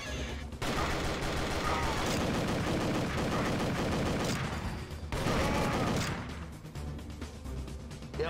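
Rapid gunfire and blasts from an explosive barrel being shot in the video game Dead to Rights, loud and dense for most of the stretch with a brief lull midway and heavy bursts layered with game music.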